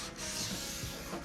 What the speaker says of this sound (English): So I'm going to take some wet dry sandpaper. This is 1200 grit, and we're going to give it a little once over.